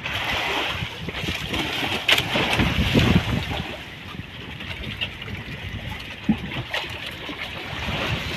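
A boat pushes through choppy sea waves, with steady wind rushing and water slapping against the hull. A few short voices call out over it.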